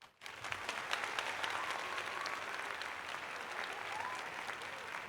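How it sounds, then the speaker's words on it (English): Steady applause from a small audience rises sharply after a brief quiet start and holds at an even level for several seconds, a dense patter of many hands with no voices over it. "Applause, my friend."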